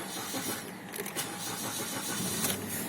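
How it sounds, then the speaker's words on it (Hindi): A manual car is started with the clutch pressed, the starter cranking briefly before the engine catches and settles into a steady, moderately loud idle nearby. "मैंने क्लच दबा के स्टार्ट किया।"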